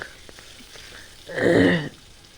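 After a quiet moment, a sudden loud burst of sizzling as red amaranth greens hit hot oil, fading after about half a second.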